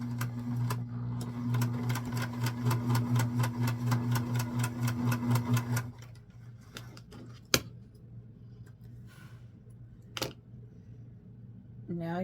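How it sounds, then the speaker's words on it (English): A sewing machine stitches across doll panty fabric in a fast, even mechanical whir for about six seconds, then stops, followed by a couple of sharp handling clicks and soft rustles, with someone speaking. "We're going to sew across, which makes this the crotch."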